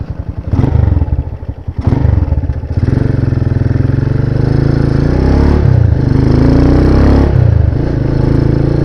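A motorcycle engine idles steadily and loudly up close with a rough, uneven running note, suggesting a fault, after a couple of brief clattering bursts near the start.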